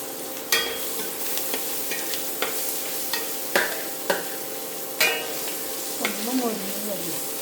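Urad dal fried in a pan for an upma tempering, with a spoon scraping and stirring in irregular strokes over a steady low sizzle, close and moderately loud.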